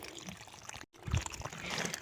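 Calcium nitrate granules are sprinkled by hand onto water around young tomato plants, giving a soft, quiet trickling patter with a brief gap and then a small splash of pouring.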